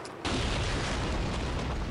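A sudden loud explosion in the video game Call of Duty 2 erupts after a brief quiet moment, followed by a sustained rumbling roar that fills the rest of the clip.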